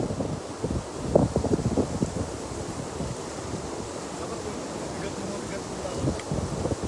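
Strong wind blowing over water at a seaside fishing spot, a steady rushing roar with gusty buffeting across the microphone and faint wave wash underneath.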